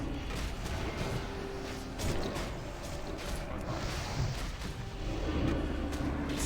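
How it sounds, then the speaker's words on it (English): Dense, continuous booming and crackling blasts from a World of Warcraft raid in Karazhan, with Flame Wreath effects and fireballs, forming a loud rumbling wash of game explosions with no clear gaps. "Explosion."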